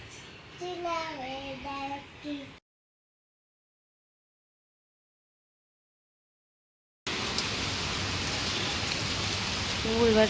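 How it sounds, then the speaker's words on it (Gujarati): Heavy rain that has been falling all night gives a steady, loud broadband hiss in the last few seconds. It follows a child singing briefly and then a gap of silence. "ફૂલ વરસાદ આવે છે"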